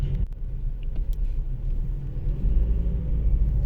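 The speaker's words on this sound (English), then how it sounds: "The noise from the engine is pretty damp." Interior road noise of a Tesla Model 3 on the move: a steady, low, muffled rumble of tyres and road, fairly loud and constant, with a couple of faint clicks and no talking.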